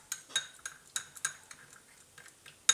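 Chaat masala, red chili powder and salt being stirred together in a bowl with a metal spoon, giving sparse light clinks and scrapes at an irregular pace, close and fairly quiet.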